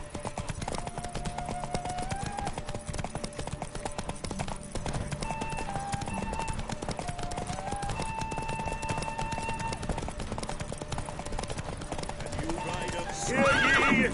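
A horse gallops steadily in The Witcher 3, with continuous rhythmic hoofbeats close up under game music and a neigh or whinny. A louder burst comes near the end.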